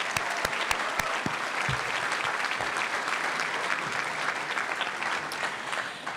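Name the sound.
graduation audience applause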